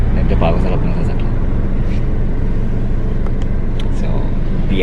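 Inside a moving car, a continuous road rumble and engine drone fill the cabin at high level, with a person talking over the noise throughout.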